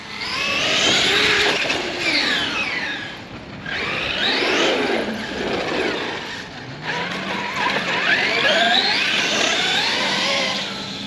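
Traxxas Xmaxx RC car ripping around a park, its electric motor whining close by in long rising and falling surges with brief lulls, steady and loud throughout, no voices.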